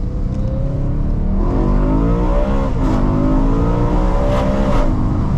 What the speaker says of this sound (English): I love a loud car, especially with this M3 engine.